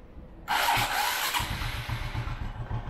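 A car engine cranks and starts at about half a second, then settles into a steady low idle that runs on to the end, with no talk over it.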